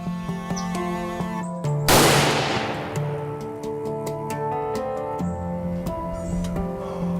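A single loud gunshot while hunting cracks out suddenly and rings off in a long decaying tail, set against a steady tonal background that continues before and after the shot.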